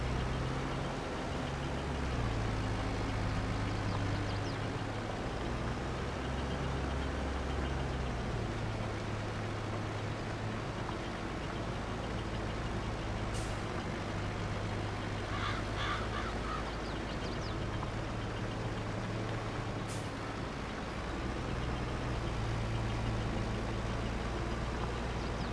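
A farm vehicle in Farming Simulator 22, working grass fields, holds a steady low engine drone for the whole stretch, with crow-like caws breaking in briefly around the middle.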